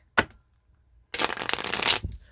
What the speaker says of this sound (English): Let me shuffle the deck a little bit.